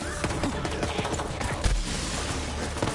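A needle gun fires in a video game, a rapid run of sharp shots over a noisy combat backdrop, with a heavier thump partway through.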